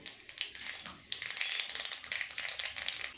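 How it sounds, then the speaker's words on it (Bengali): Black cumin (nigella) seeds hit hot oil left from frying pointed gourd, giving a dense, crackling sizzle with sharp popping bursts that swell partway through and keep spitting steadily to the end. "এই তেলে ফোড়ন দেব কালো জিরে।"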